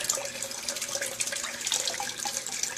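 Water from a tap splashes steadily into a sink, a close, continuous running and splattering sound with no voices.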